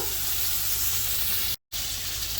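A ribeye steak sears loudly in a hot pan, a constant dense crackling sizzle close up with a momentary cut near the end.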